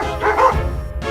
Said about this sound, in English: Suddenly, some dogs barked in the distance